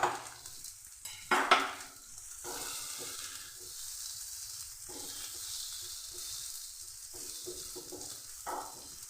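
Taro pieces fry in spiced oil with a soft, steady sizzle close by. Scattered clinks and scrapes of a utensil stirring in the pan come through, louder near the start.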